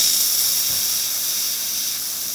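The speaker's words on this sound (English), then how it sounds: "Nice strong steam." The steam wand of a La Pavoni espresso machine gives off a strong, continuous, close hiss of steam that holds steady throughout with no voices.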